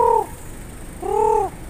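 Pigeons coo while being fed, two clear drawn-out calls, the second longer, close by against a quiet background.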